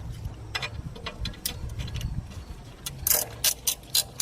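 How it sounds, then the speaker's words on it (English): Ratchet clicking in short bursts while a set screw is backed out of a BMW brake rotor, close and quiet, with sharper metallic clicks toward the end. "Now we're going to remove the set screw right here."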